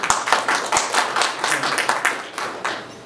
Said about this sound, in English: that is a deserved applause for CHRV